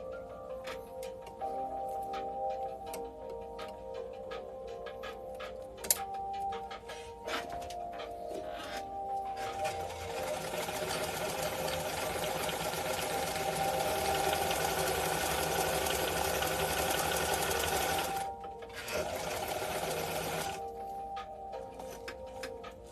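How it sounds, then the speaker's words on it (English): A sewing machine top stitches a piece of fabric during a sew-along, running in a long steady whir of rapid stitching with brief pauses and starts, moderately loud and nearby. "I'm just going to top stitch that down"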